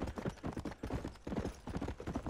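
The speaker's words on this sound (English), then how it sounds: "And so the riding of the horse commences again." Horse hooves gallop in the Red Dead Redemption video game, a steady, fast clip-clop rhythm that runs throughout at moderate loudness with no talk over it.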